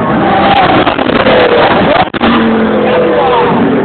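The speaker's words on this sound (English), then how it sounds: "Here comes the Rothman's car." A Rothmans-sponsored race car roars past at speed at a racing event, loud and close, its engine note sweeping in pitch with a sharp dip as it passes, while other engine noise drones underneath.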